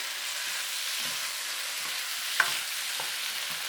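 Pepper fish frying in a pan over lowered heat, a soft steady sizzle with a few quiet scrapes and one sharper clink of the utensil against the pan.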